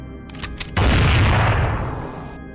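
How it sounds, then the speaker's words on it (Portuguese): A single loud gunshot sound effect in a dramatized night scene bursts after a few faint clicks and rolls off into a long, booming echo before cutting to silence. "O primeiro som a romper o silêncio foi um tiro,"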